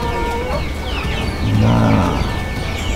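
Broiler chickens cluck and chatter close by, several birds overlapping in a busy flock, with a brief spoken syllable mixed in.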